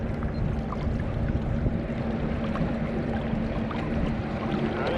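An Old Town Sportsman kayak is pushed through water by a Bixpy electric motor running at low speed against current, giving a steady close wash of water and hull noise with no voices.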